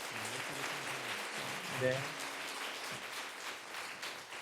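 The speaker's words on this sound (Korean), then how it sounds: "우리 성경책하고 선물 전달할 때 따뜻한 박수 한번 부탁드리겠습니다." A church congregation gives warm applause during a Sunday service as Bibles and gifts are handed to new-family training graduates, soft scattered clapping under a brief spoken word and low murmuring.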